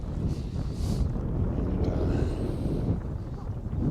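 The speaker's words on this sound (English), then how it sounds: "And the wind is still cutting right through them." Strong, cold wind on the summit of Mauna Kea in Hawaii batters the microphone with a steady, dense low roar that barely lets up for the whole stretch.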